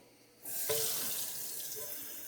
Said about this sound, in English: We take the cans, we turn our water on low,